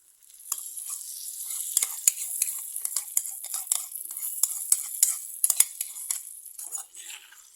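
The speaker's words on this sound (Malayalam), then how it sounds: "ശേഷം നന്നായിട്ട് മിക്സ് ചെയ്യാം." Stirring curd chutney in a pan with the stove off: repeated scraping and clinking of a spoon against the pan, with a soft wet hissy texture, close and fairly steady, with no voices.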